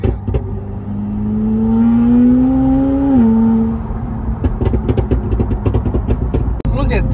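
McLaren 720S with N-Largo body kit driving, a steady engine drone whose pitch rises and then drops, with people talking over it inside the car.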